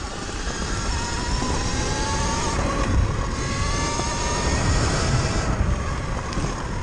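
A Surron Light Bee 72V electric motorbike with a BAC 4000 controller rated 16000W rides at speed, its motor whine rising and falling in layered tones over loud, constant wind rush.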